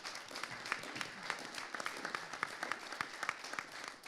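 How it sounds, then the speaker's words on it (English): An audience at a panel discussion on sports and communities applauds, a dense patter of many hands, moderately distant and steady for several seconds. "give a big round of applause for all of our panelists"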